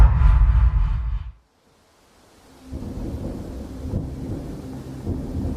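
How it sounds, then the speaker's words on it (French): A violent thunderstorm over Roswell, New Mexico: a loud crash of thunder that cuts to a brief silence, then steady rain and rumbling continue underneath. "un violent orage éclate au-dessus de Roswell, au Nouveau-Mexique"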